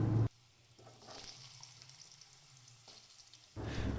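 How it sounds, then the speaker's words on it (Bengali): Potatoes frying in hot mustard oil in a wok, tempered with bay leaf, give a steady soft sizzle that runs close and continuous after a brief louder burst, with no talk over it. "এবার আমি আলুগুলোকে ছেড়ে দিলাম"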